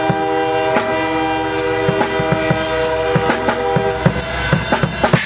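Train horn blaring loudly in a sustained, multi-tone chord during a live punk band show, with sharp percussive hits and clatter scattered through it.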